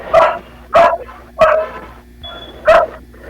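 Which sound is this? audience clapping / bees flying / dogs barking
dogs barking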